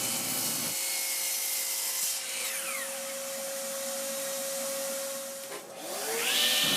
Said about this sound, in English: I'm cutting the trim down to their rough lengths